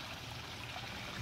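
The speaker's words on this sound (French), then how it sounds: "un petit ruisseau qui passe sous l'église" A small stream, a tributary of the Trieux, flows beneath a church, a faint, steady trickling and babbling of water heard briefly with no voices.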